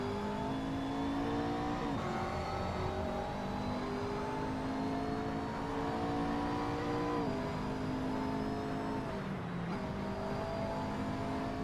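A GT3 race car engine at Oulton Park in a racing video game, loud and continuous with rising revs, gear-shift drops around two, seven and nine and a half seconds, with no talk over it.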